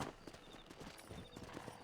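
In Red Dead Redemption, a horse's hooves clip-clop in a quick, even rhythm, faint and close-sounding, with no talking over the steps.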